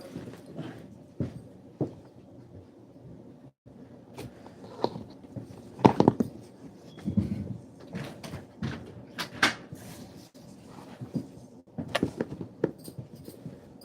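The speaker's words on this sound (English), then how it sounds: "It's almost time for that thing, so I have to close the door." A door is pushed shut amid a run of knocks, thumps and rattles, scattered irregular impacts that are fairly close, with quieter handling noises between them and no talk.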